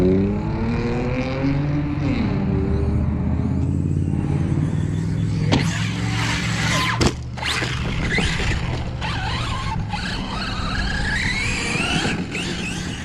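A Redcat Kaiju RC truck races over a cold outdoor track, its electric motor whining and rising in pitch, with sharp thuds and clatters as it lands jumps, and a scuffing skid near the end.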